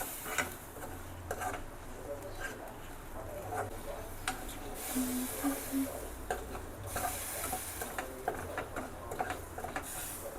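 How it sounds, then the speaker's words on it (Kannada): Ingredients for rasam frying on a low flame in a pan: a quiet, steady sizzle with soft scraping and stirring strokes and occasional small ticks, faint and close, with no talk. "ಸೊ ಇದನ್ನ ಫ್ರೈ ಮಾಡ್ಕೊಬೇಕು ಲೋ ಫ್ಲೇಮ್ನಲ್ಲೇ"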